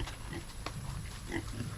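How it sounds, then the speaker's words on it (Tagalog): A pet pig on a coconut farm gives soft, short grunts close to the microphone, a couple of quiet oinks over a low, steady background. "Mag-iisip pa kami magandang pangalan yung alaga namin isang baboy."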